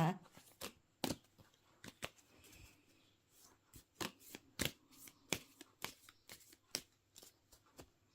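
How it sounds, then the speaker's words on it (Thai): Tarot cards are shuffled close by, with crisp, repeated riffles and snaps coming in uneven bursts over several seconds. "ขอเป็นตัวแทนสับไพ่ให้คนเกิดวันอังคารนะคะ"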